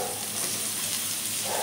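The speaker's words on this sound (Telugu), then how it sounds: "క్యాప్సికమ్ వేస్తున్నానండి" Capsicum pieces frying in oil in a pan for a sesame-powder curry, giving a dense, steady close sizzle with no talking.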